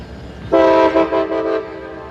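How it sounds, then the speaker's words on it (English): CSX Y310 transfer train rolling into Kirk Yard in the distance, its horn sounding loud and clear after a quiet start and holding a steady chord with a few short dips, ending in a sustained blast. "we then see the CSX Y310 transfer job rolling up and pulling into CN's Kirk Yard in the distance"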